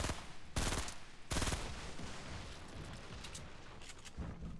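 Bursts of Fortnite video game gunfire: two loud broadband blasts in the first second and a half, followed by sustained rattling battle noise and a few fainter shots, with no voices.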